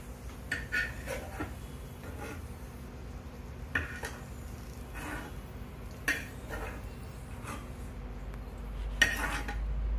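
Fried raisins scooped from a pan with a metal spoon: light scraping and several clinks of metal against the pan, soft and close, with faint sizzling underneath.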